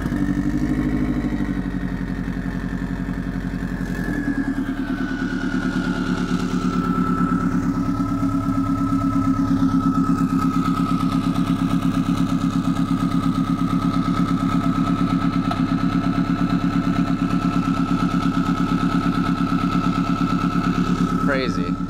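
Subaru WRX engine swapped into a Porsche Spyder starts up and settles into a steady, loud idle close by, with a rough mechanical rumble, while people talk over it.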